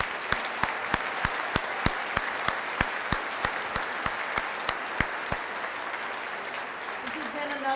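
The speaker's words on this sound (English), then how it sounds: "Let's give all of our award winners another round of applause." A room of attendees at a chamber of commerce awards evening gives sustained applause for award winners, with a steady wash of clapping and a few sharp individual claps standing out in an even beat, tapering near the end.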